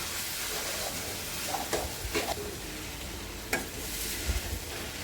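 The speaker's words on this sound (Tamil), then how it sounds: "நூடுல்ஸை நம்ம செஞ்சு வச்சிருந்த மசாலாவோட நல்லா படுற மாதிரி கிளறி விடுங்க" Veg noodles being stirred into vegetable masala in a hot pan, a steady close sizzle with a few sharp scrapes and clicks of the spatula against the pan.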